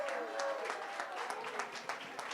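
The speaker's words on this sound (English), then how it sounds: "Give them all a big, big round of applause" Audience applause for musicians after an awards event with band performances, a steady patter of many hands clapping at moderate distance, a voice speaking over it near the start.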